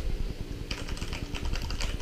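Typing on a Rakk Lam-Ang Lite mechanical RGB keyboard, a quick close run of clicky keystrokes that turns brighter and denser partway through, with no talk.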